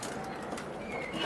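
An Orange Chila pigeon, the feather-footed kind, gives a brief low coo close by at a pigeon farm, a single short call over steady background hum.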